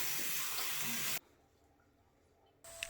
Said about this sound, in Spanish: Una vez terminado, la enjuagamos bien con agua caliente